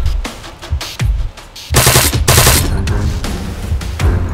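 Arma 3 gunfire: rapid automatic bursts and sharp shots, loud and close, with a sustained heavy stretch of firing in the middle.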